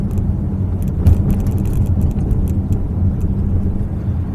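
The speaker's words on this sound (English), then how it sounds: "There are actually a few rattles in this car" Steady low road rumble of a car driving, with scattered small light rattles and clinks from a load carried inside the cabin; no talking.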